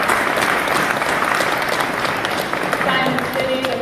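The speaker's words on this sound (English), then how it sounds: "I want to start off with just giving a huge applause to the team here at Politicon" Loud, sustained applause from a crowd at the Politicon convention, a thick wash of clapping with a few voices mixed in throughout.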